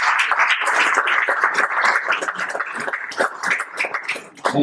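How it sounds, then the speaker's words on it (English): A burst of clapping from a small group, loud and close, with some muffled vocal noise mixed in before it tapers off. "let's get another round of applause for Dr. Ray."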